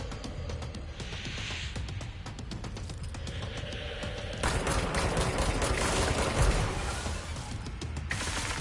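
Sustained gunfire in the video game Control, with dense rapid bursts and crackling impacts that build louder partway through, forming a continuous close barrage without speech.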